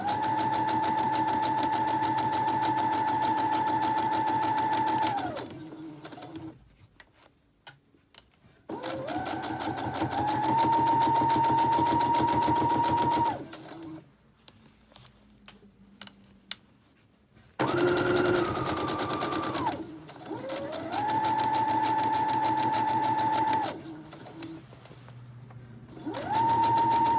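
A sewing machine stitches along the upper edge of a sleeve, running in long steady whirring bursts broken by short pauses and faint clicks, loud and close with no talk.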